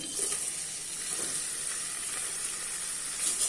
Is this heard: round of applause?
no